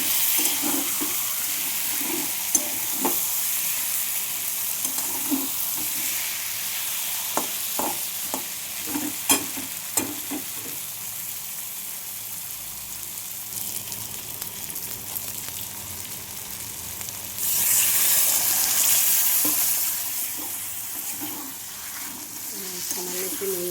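Water added to a spiced curry frying in oil, with steady sizzling and stirring scrapes, then a louder hissing surge near the end; soft speech runs faintly beneath.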